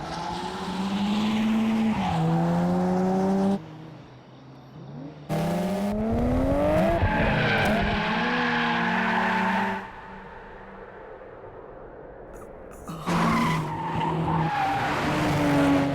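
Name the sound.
race cars passing with tires skidding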